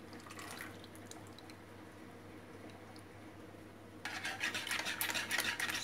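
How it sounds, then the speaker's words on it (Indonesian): Water and oil poured into a bowl of pandan cake batter made with three eggs, a steady faint trickle and splash rising clearly louder near the end over a low background hum. "Terus tambahkan air dengan minyak."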